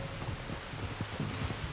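Rain falls steadily in the video game Red Dead Redemption 2, a constant, even hiss with soft patters and a low rumble underneath, with no speech.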